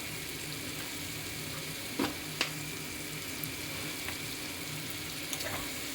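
Bottle gourd fries with spices and a little sugar in a pan as it is stirred, giving a steady close sizzle with a few sharp clinks of the spatula against the pan.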